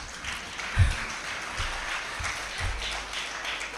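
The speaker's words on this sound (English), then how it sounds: "yes, I can have an applause" Audience applause in a hall at a school celebration: a moderately quiet, steady wash of clapping that runs through the whole stretch without talk over it.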